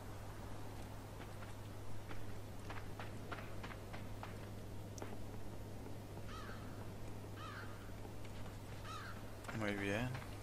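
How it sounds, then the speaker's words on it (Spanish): Crow cawing several times in the dark forest of the video game Limbo, a handful of short harsh calls spread across the clip over a steady ambient drone, with a voice talking over them near the end. "Cuervo. Cuervo, shushu."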